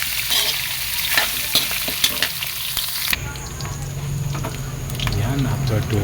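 Ground meat browning in a frying pan for creamy mongo, a dense close sizzle with spatula scrapes and clicks, shifting to a softer bubbling fry halfway through.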